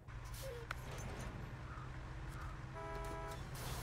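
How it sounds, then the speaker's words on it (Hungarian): A vehicle horn toots briefly in the game Snowrunner on a Michigan map, sounding over a steady low engine rumble, with a longer honk near the end. "Ne dudálj!"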